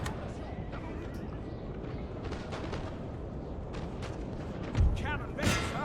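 Cavalry horses moving in the battle game Napoleon: Total War, a muffled thudding of hooves and a whinny within a busy battlefield din of distant gunfire, with a couple of louder booms near the end.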